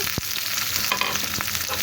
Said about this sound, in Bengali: এখন আমি পেঁয়াজগুলো ভেজে নেব।